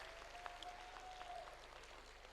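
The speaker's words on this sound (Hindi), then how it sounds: "जोरदार ताली बजाकर इनका स्वागत अभिवादन करो" Audience applause at a school annual function: a steady wash of many hands clapping, fairly faint and distant, continuing evenly throughout.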